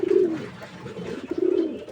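A dove coos twice in a breeding cage, two soft throaty calls spaced about a second apart, close and fairly quiet against a faint background.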